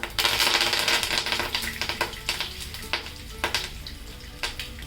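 Cumin and mustard seeds crackle in hot oil for a tempering, with curry leaves sizzling in. A loud, dense frying hiss runs throughout, broken by several sharp popping bursts, with no talking.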